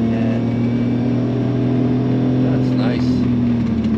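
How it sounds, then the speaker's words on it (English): A BMW E34 M5 Touring with the S38 engine drones steadily and loudly from close by, holding a strong constant tone throughout while people talk over it. "Yeah, S38 BMW. Yeah. Fantastic. And just revs out."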